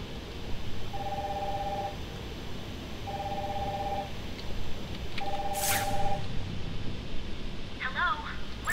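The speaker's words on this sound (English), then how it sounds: "Phone's ringing." A phone in the video game Batman: Arkham Asylum rings in three evenly spaced electronic trills against a low game ambience, and a voice comes in near the end.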